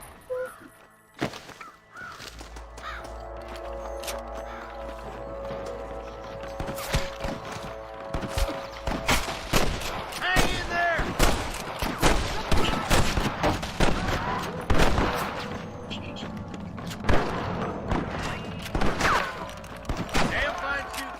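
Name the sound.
gunfire in Red Dead Redemption video game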